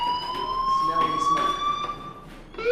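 An electronic fire alarm in the video game Life is Strange sounds as a steady, piercing high tone that holds throughout, with a character's voice speaking over it.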